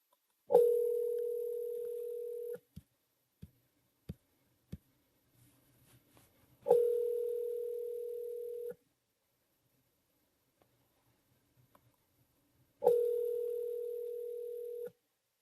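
A telephone rings in three long, identical steady tones spaced evenly apart, with near silence and a few faint clicks between rings.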